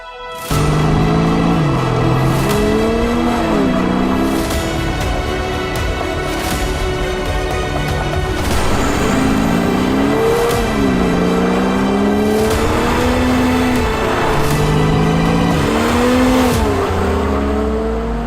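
An Audi A6 Allroad 3.0 biTDi diesel with Stage 2 tuning accelerates hard, its engine note rising through repeated gear changes, loud and sustained from inside the car.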